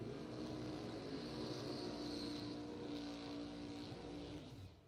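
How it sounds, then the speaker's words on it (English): A pro stock drag racing car does a burnout at high RPM in the right lane at a bracket racing event, a sustained roaring engine heard from a distance that fades slightly at the end. "Randy Ring in the right lane doing a pro stock burnout."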